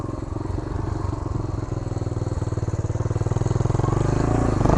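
A 1975 Honda Redline Powroll 412cc motorcycle crawling up a hill at idle, its engine close and loud with a rapid, even thumping pulse that grows steadily stronger as it climbs.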